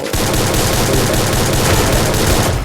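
Dense rapid gunfire in a battle royale video game rattles continuously and loudly, a sustained burst of shots with no talk over it.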